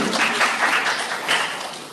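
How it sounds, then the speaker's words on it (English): An international seminar audience gives a short round of applause for a speaker, a dense burst of hand clapping that swells and tapers off within a couple of seconds. "So ladies and gentlemen, give applause to Mrs. Igusti Agung Ayu Dika Widyastuti."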